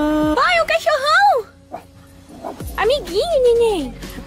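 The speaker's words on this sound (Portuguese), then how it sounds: "Ai, um cachorrão." A big dog at a farm whimpers and whines in long rising and falling cries with yips, loud and close, with a person talking nearby.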